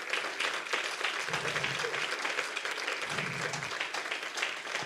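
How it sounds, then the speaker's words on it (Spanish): A church congregation claps in praise during a sermon, a sustained wash of many hands applauding at moderate distance with no voice on top. "Dele un aplauso al Señor"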